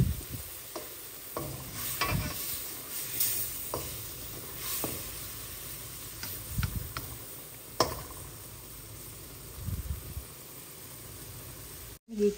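Scallops sear in a hot pan over medium-high heat, giving a steady close sizzle with scattered pops and brief clatters of stirring, and no talk.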